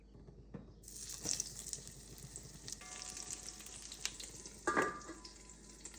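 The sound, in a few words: eggplant frying in a pan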